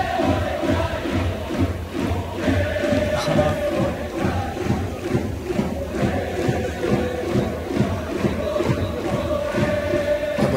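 Japanese football supporters in a stadium chant a song together, a loud, rhythmic crowd song with steady pulsing beats that continues the whole time.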